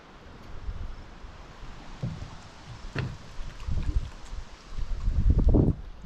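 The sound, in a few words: wind blowing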